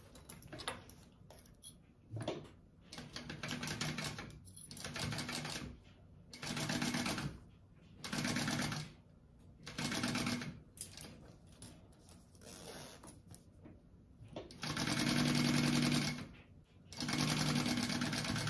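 A sewing machine basting fabric for a bag at a one-eighth-inch seam, in repeated close bursts of rapid mechanical stitching separated by short pauses, with no talking.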